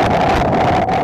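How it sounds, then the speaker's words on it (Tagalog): Strong wind from Typhoon Julian gusts in Batanes. It sounds like a loud, close, roaring buffet against the microphone, with a hollow whooshing tone that briefly dips near the end. "Sinabayan yan ng malakas na hangin."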